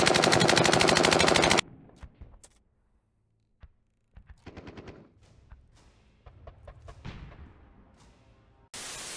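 A World War II machine gun fires in the game Post Scriptum: loud sustained automatic bursts open and close the passage, with scattered quieter shots and clatter between them.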